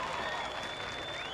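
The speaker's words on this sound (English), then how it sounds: "Big round of applause for our drum line there." Crowd applause at a football game for the drum line, a dense steady wash of clapping and cheering held for a short moment, loud and continuous with a whistle-like tone running through it.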